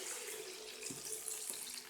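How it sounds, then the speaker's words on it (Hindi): Steady stream of water running and splashing into a cooking pan with oil, continuous and close, with a couple of faint clinks. "एक कप पानी इसमें मैं ऐड कर रही हूँ"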